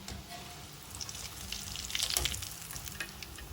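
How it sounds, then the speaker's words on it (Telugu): Pesara vada, moong dal fritters, fry in hot oil with a steady crackling sizzle, close and fairly quiet, with a brief swell of bubbling midway. "రెండు వైపులా కూడా ఎర్రగా వేగేట్టు వేయించుకోవాలి"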